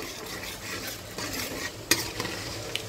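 Mustard seeds and cumin sizzle and crackle in hot oil as a spoon stirs through them, a steady frying hiss broken by a few sharp pops and scrapes near the pan.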